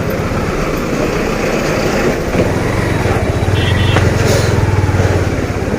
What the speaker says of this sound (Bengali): রাত্র বাজে সোয়া বারোটা কিন্তু জ্যামের পরিমাণ কত বেশি হিউজ একটা জ্যামের মধ্যে আটকা পড়ে রয়েছি আমরা